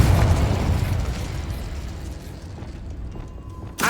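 Confringo fire spell blasting in Hogwarts Legacy: a loud, booming burst at the start that rolls into a decaying rumble and fiery crackle, ending with a sharp new hit.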